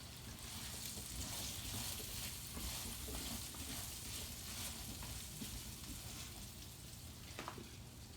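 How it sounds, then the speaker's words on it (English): Seasoned potatoes and kielbasa fry in a pan with a steady, close sizzle, broken by faint scraping as they are stirred, continuous across the whole stretch with no talking. "We'll stir that in a little bit."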